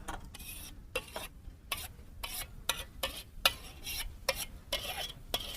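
Curd being mixed by hand in a bowl for a hair mask, a series of quick wet scraping strokes in a steady rhythm, close and fairly quiet.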